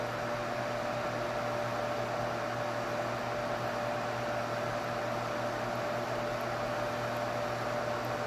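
An 87 kHz, 1200-watt H-bridge induction heater melting copper pipe, giving a steady unbroken electrical hum with a fan-like hiss, constant in level throughout, close, with no talk.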